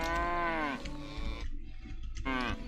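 Cattle low in the medieval village of Medieval Dynasty: two drawn-out moos close by, the first long and falling, the second starting after a short pause, with a light ticking under them.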